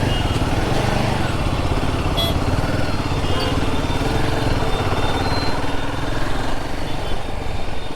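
Motorcycle engine runs steadily while riding on a road toward Jagannath Dham in Puri, a continuous close droning rumble with wind noise and no break through the whole stretch.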